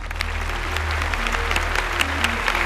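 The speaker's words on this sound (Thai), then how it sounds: "พวกเราครับขอเสียงปรบมือต้อนรับ" A crowd applauds steadily and loudly to welcome a young mor lam singer on a Thai TV show, while a low musical drone with shifting tones plays underneath.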